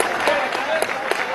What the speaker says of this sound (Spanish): Lo aplauden de pie.